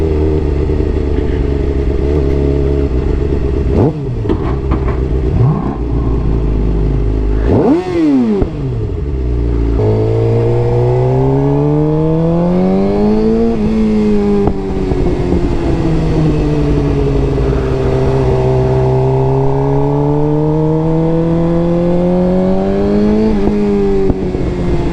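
A Suzuki GSX-R sport motorcycle engine runs loud and close throughout a ride, with rising and falling revs through gear changes and a sharp throttle blip partway through, steady wind rumble underneath.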